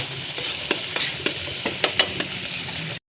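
Salangubang beetles fry in a pan with a continuous bright sizzle, broken by small pops and stirring scrapes, close and steady until it cuts off abruptly.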